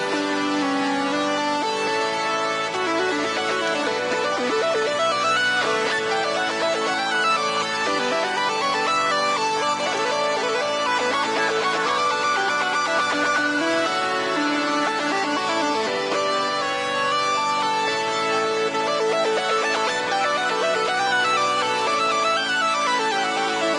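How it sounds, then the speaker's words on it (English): Big, huge sawtooth synth lead playing a solo, looped in Ableton; dense, bright and continuous at full loudness throughout, with busy melodic lines over sustained layered tones and no voices. "Big, huge saw lead sound."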